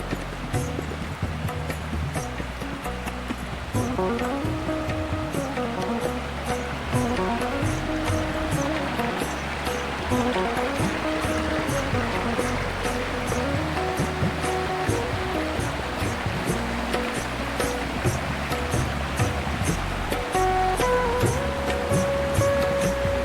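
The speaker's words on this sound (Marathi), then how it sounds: "पाणी नदीला आलेलं आहे" A river running full after the season's first rain rushes in a continuous, loud broadband wash, with a faint tonal murmur threaded through the flow.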